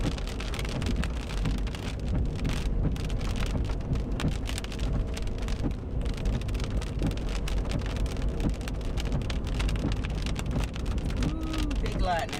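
Heavy rain pours steadily during an East Texas rainstorm, a dense continuous roar of drops drumming on surfaces with a faint low rumble beneath, loud and unbroken throughout.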